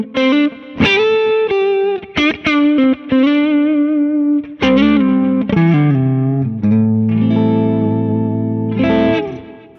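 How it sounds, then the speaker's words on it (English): Electric guitar with PAF-type pickups played through a Kemper profile, a sustained, lightly driven lead line with rich harmonics, chorus-like shimmer and reverb tails, phrases rising and bending over about ten seconds with no talk. "I'm playing through the Sine Wave Continuum Signature B profile on my Kemper"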